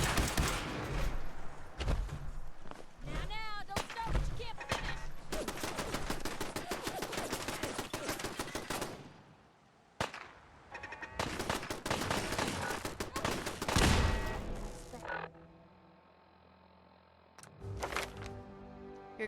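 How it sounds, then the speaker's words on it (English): Shooting in Fallout 4, with loud shots and rapid bursts packed through the first three-quarters, a short gap, then quieter ambience and a last few shots near the end. "Your gun shoots very slowly"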